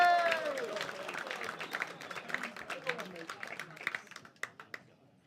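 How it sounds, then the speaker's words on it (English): Comedy club audience at Hot Water Comedy Club clapping and cheering as an act is welcomed to the stage, dense applause with whoops that thins out into a few scattered claps at the end. "Keep that up, going, clap and whoop and cheer"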